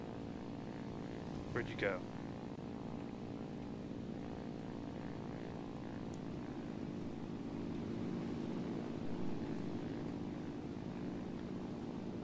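Propeller bombers fly in formation in a flight simulator game, a continuous droning engine hum with a slight swell later on, while someone speaks briefly over it.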